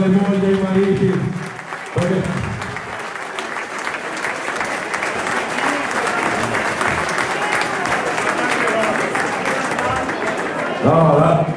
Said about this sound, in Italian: Fate un applauso alle mogli e ai mariti.